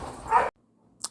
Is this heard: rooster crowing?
no